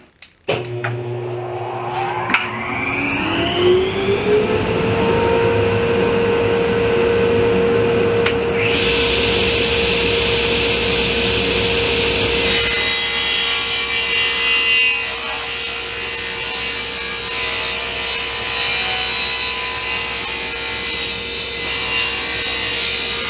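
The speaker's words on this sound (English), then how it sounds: "I'm going to start ripping that on the table saw" Table saw ripping 3/4-inch Baltic birch plywood into 4-inch strips: the motor spins up with a rising whine, then a loud steady blade hum joined by a harsh cutting roar that continues to the end.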